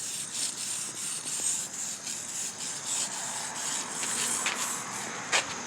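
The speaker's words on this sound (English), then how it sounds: "scrape it till it's smooth." Rust is scraped off a surface before painting, giving a continuous close rasping scrape with slightly uneven strokes and a few sharper scratches near the end, with no talking.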